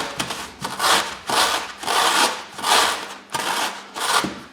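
Eggshells crushed inside a VermiBag egg crusher bag, giving rhythmic bursts of crunching and rubbing about once a second, close and fairly loud, with no voices.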